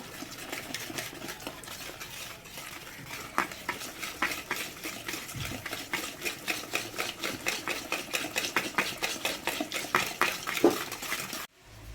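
Butter, sugar and eggs beaten by hand for a plum cake batter, a steady rhythmic scraping and slapping in a bowl that speeds up and grows louder, with no talking.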